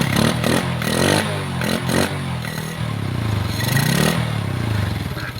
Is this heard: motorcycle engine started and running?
yes